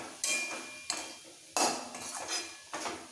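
Four sharp metallic clanks of a spoon against a pan as chicken momo stuffing with masala is mixed, each strike followed by a short scraping stir, close and clear with no voices.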